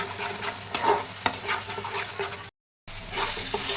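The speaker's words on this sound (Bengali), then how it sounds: "গুঁড়ো লঙ্কা দিয়ে একটু নাড়ি" Plantain mash being stirred with chili powder in a frying pan, a steady scraping and sizzling that runs on with a few louder strokes and a brief gap of silence.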